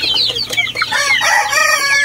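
Several pet chickens cluck and chatter close by, a busy run of overlapping squawks and calls with no talking.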